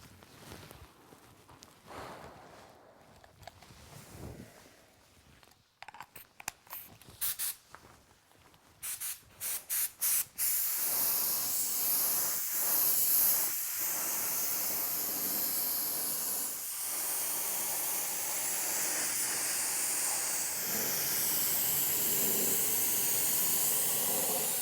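A spray gun lays epoxy primer onto a car door jamb, starting as short stop-start bursts and then settling into a long, steady, close hiss that runs unbroken to the end.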